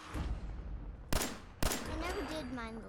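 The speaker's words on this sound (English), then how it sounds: "Well, I hear some gunshots over here." Two sharp, loud gunshots in the video game Fallout, spaced about half a second apart over a rumbling game soundscape, with a tonal, voice-like sound rising afterward.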